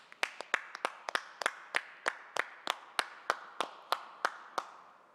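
A single person or very few people clapping at a 2021 awards ceremony, about fifteen sharp, evenly spaced claps, close and distinct rather than a crowd's ovation, with no talking.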